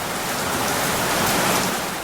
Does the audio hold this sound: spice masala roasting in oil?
no